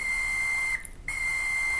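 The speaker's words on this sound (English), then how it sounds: "And you can hear the peanut whistle." A model train's peanut whistle, on a brass caboose, sounds a steady, high-pitched tone continuously, broken by one short gap before it resumes at the same pitch.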